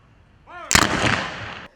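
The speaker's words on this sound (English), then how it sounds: "C Company 61 gave a 21-gun salute" Rifle volleys of a 21-gun salute at an outdoor military memorial ceremony. A single sharp, loud crack is followed by a short rumbling decay.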